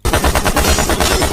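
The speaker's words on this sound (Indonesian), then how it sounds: "Kemudian Asep beradu tembak dengan perampok yang tersisa." Rapid bursts of gunfire crack through a film gunfight between a policeman and the last robbers, loud and dense shots in quick succession with no talk.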